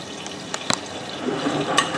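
Water fills the drum of a Miele W562 washing machine on a minimum iron 30ºC cycle with Short and Water Plus, a steady soft hiss and trickle with a few small clicks and knocks, moderately close.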